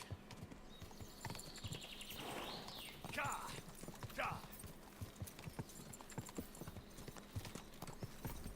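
Horse hooves clip-clop steadily at a quick pace while riding in Kingdom Come: Deliverance 2, a brief neigh rising midway over a background of game ambience and occasional talk.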